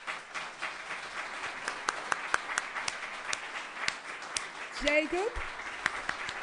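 At the 2012 Antipodes Writers Festival an audience applauds the performer Anthea with scattered, fairly sparse claps, and a voice speaks briefly partway through.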